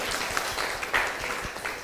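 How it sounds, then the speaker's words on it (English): Applause from an audience at a medical education course, a steady wash of clapping that stays moderately loud across the whole short moment. "Big round of applause to all of you"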